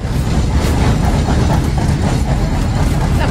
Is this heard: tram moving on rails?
yes